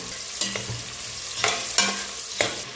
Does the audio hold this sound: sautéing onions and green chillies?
yes